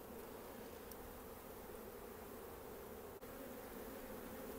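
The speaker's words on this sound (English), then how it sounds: "These are the angry bees at this end, clearly." Honey bees buzz continuously in a hive, a dense, steady drone, quiet and close, with no other sounds.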